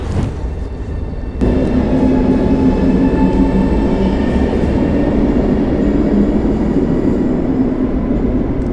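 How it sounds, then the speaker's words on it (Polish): A Pendolino high-speed train rumbles loudly and steadily nearby, its broad roar building after a quieter start and holding as it departs. "Pendolino pojechało do Krakowa, a ja czekam na pociąg"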